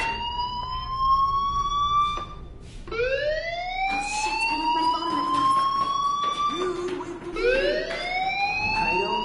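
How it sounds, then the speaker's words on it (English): A fire alarm in the video game Life is Strange wails in repeated rising electronic sweeps, loud and continuous, with faint background noise beneath it and no one talking. "do you hear that fire alarm?"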